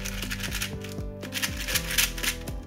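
A YJ Zhilong mini 4x4 plastic puzzle cube being turned quickly, giving a rapid series of close, crisp clicking turns with a fairly steady rhythm.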